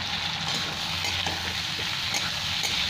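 Chopped tomato fries with spices in a pan for a Bengali fish curry, giving a steady close sizzle with soft stirring scrapes and faint ticks from the utensil, and no talking.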